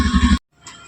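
A stuck goat lets out one loud, harsh, close bleat lasting under half a second, followed by silence and then a faint, short trailing sound.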